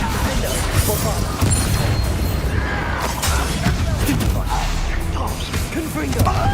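A Bombarda explosion spell goes off in Hogwarts Legacy amid busy spell combat, with crashing, shattering blasts layered over a constant rumbling game mix and a voice speaking.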